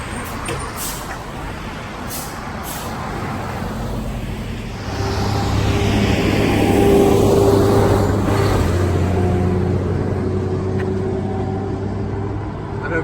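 Steady road traffic along Seven Lakes Drive near the Hudson River crossing, with a broad continuous rumble that swells louder midway as heavier vehicles pass, engine drone and a low tonal hum prominent, no talk over it.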